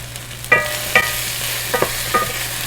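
Drumstick and brinjal being sautéed in crab masala for a spicy crab gravy, with a few sharp spoon scrapes against the pan over a low steady sizzle.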